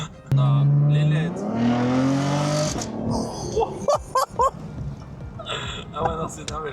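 Chevrolet Camaro engine revving loudly up to a high pitch and dropping back, followed by lighter engine sounds while people talk excitedly nearby.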